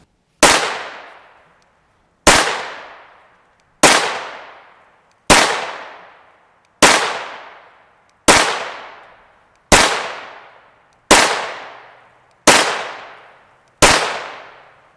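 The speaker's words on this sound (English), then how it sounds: "And now onto our 16-inch. This is our Ruger LC carbine." Ten sharp gunshots ring out from a 16-inch Ruger LC carbine firing 5.7x28mm Hornady 40gr VMAX ammunition, evenly spaced about every one and a half seconds, each a loud crack with a decaying tail.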